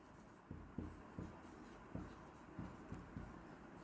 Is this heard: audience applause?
no